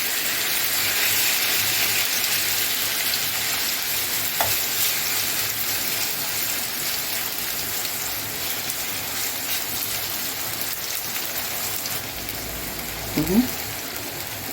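Chicken pieces for Mexican chicken quesadillas frying in a pan, a dense, even sizzle held for the whole stretch, with a brief clatter and a short vocal sound near the end.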